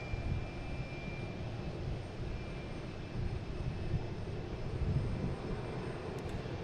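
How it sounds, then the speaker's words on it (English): A JetBlue jet airliner departing Boston Logan for LAX sends out a continuous rumbling jet roar, moderately loud and fairly even, rising slightly toward the end, with no speech. "we got JetBlue heading to LAX"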